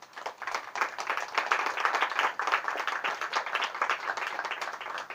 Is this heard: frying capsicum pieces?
no